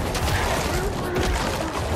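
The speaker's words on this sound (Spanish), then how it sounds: "Un poquito de explosiones bajo sus pies siempre pueden venir bien." Explosions burst under an enemy's feet during a boss fight in the Diablo IV video game, a loud, dense, crackling rumble of blasts.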